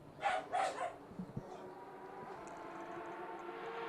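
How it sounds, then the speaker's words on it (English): A dog barks twice in quick succession at moderate distance, followed by a couple of faint yips, with a low steady hum continuing underneath at a motorsport event. "the dog's picked up on something in the background"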